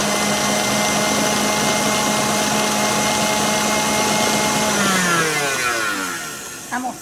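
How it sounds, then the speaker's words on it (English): A loud electric mixer whirs steadily while blending lemon meringue pie filling, a sustained motor drone with a harmonic whine that drops in pitch and winds down near the end, followed by brief clatter. "we're going to blend it up until it's all mixed in"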